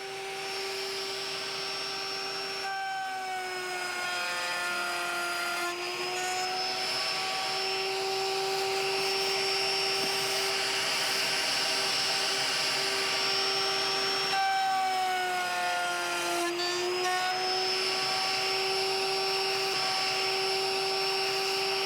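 Router cutting notches through stacked wood pieces, a loud sustained high whine with shifting tones that dip as the bit bites into the wood, running continuously with brief changes in load, no talk.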